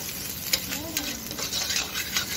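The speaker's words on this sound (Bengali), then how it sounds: "এটা ভালো করে এখন মিক্স করবে।" Street food being stirred and mixed in a pan over a wood or charcoal fire, a steady scraping stir with a light sizzle underneath, close and continuous with a few sharper clinks.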